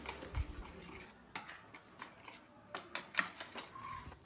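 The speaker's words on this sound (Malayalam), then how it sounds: "അതിലേക്ക് തയ്യാറാക്കി വെച്ച കാരമൽ സിറപ്പ് ചേർത്ത് നന്നായി ഇളക്കണം." Spoon stirring caramel syrup into plum cake batter in a bowl, with soft, faint irregular scraping and occasional light clinks of utensil against the bowl, no talking.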